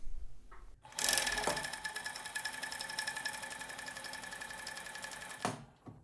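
Sewing machine running steadily while stitching fabric for men's boxer shorts, a continuous close mechanical whir with rapid needle rhythm that starts abruptly and stops after about five seconds, no talking.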